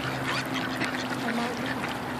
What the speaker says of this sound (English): Just look at all the ducks